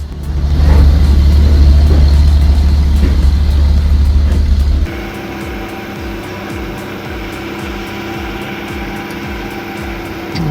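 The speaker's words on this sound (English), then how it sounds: "this 17-wheel Kenworth powers through brutal terrain" A 17-wheel Kenworth diesel logging truck drives over rough terrain: a loud, deep engine roar that suddenly drops to a lower, rhythmically pulsing rumble partway through.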